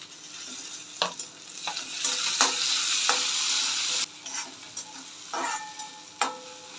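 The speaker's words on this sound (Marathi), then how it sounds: "सर्व व्यवस्थित परतून झालं आहे।" Okra sautéed with chilli and tomato crackles in a pan, with a swelling burst of sizzle in the middle and several sharp spatula knocks and scrapes around it, close and alone.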